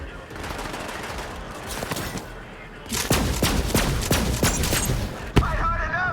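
Gunfire rings out in Borderlands 3. A scattered opening gives way to a dense run of rapid, loud shots, with a sharp boom near the end. A voice talks briefly.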